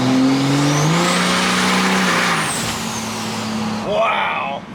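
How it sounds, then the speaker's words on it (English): Turbocharged car engine revving hard outdoors on freshly cut grass, loud rising and falling engine tone with a whooshing high whine, ending in a sharp turbo flutter as the throttle lifts. "Turbos sound great."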